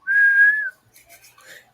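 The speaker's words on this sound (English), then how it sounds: "when you shoot like a mini nuke, it makes that little whistle" A single high, steady whistle from a mini nuke launched in a video game lasts about half a second, loud and clear. Faint, scattered game noises follow.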